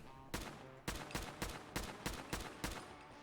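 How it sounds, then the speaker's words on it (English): An assault rifle fires in a video game as a steady series of about seven loud, sharp shots at an even rhythm, close and alone. "The assault rifle."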